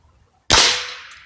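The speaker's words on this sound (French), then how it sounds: "Je vais continuer les tirs pour voir si j'arrive toujours au même endroit." A single sharp rifle shot fired at a target, loud and close, with a sudden crack followed by a decaying outdoor echo lasting under a second.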